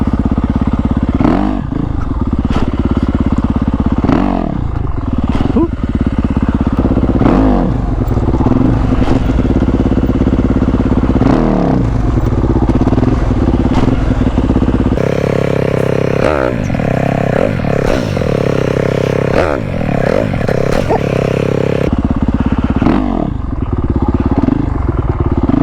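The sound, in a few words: motorcycle pulling away as the clutch is let out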